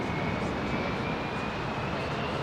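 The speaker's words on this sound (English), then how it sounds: "we've got a VIP, 777 VIP jet coming in" Boeing 777 VIP jet arriving at London Heathrow, a steady, loud roar of jet engines with a faint high whine, continuous throughout with no talk.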